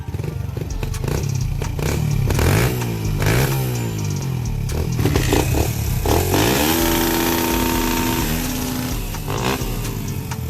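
A Kawasaki KX100 trail bike revs hard at an offroad park, its two-stroke engine rising and falling in repeated throttle blips and sweeping pitch changes, loud and close with some clatter.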